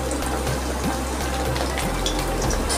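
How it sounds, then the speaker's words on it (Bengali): Small fish roe koptas fry in mustard oil over low heat, giving a steady, even sizzle throughout with no talk. "এইভাবে আমি ছোট ছোট করে দিয়ে ভেজে নিচ্ছি।"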